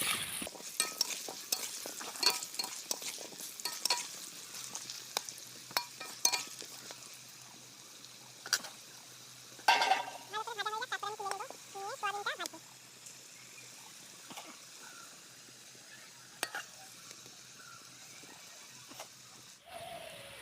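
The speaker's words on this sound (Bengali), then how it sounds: "এই যে আমার লাল লাল করে ভাজা হয়ে গেছে, আর একটু ভাজবো, তারপরে আমি তুলে নেব।" Potato pieces and soybean chunks frying in a pan while being stirred, with repeated scraping and clinking strokes over a continuous sizzle and a voice heard briefly partway through.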